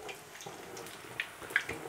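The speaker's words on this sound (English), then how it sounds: "Just wash my hands." Hands being washed under a running kitchen tap, a soft, faint steady rush of water with a few small splashes, close by and alone.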